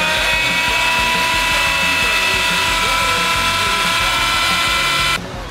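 Food processor pulsing cauliflower into a coarse rice-like texture, a loud close grinding whir that runs steadily and then cuts off abruptly near the end.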